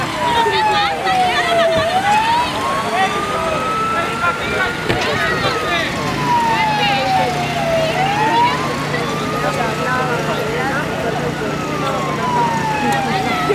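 Ambulance sirens wail as emergency vehicles arrive at a simulated road-traffic accident and hazmat drill at a university in Madrid. The loud, sweeping tones rise and fall in long cycles over a rumbling engine, while people talk in the background.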